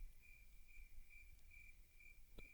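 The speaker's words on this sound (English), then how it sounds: "Crickets." A crickets-chirping sound effect from a podcast soundboard plays alone: a steady, faint, evenly pulsing insect trill over low background hiss, with one brief click near the end.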